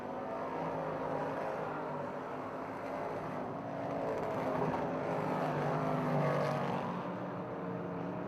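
Race cars roaring around the Utica-Rome Speedway, a steady, somewhat distant engine drone that swells and fades slightly as the pack circles the track, with no voices.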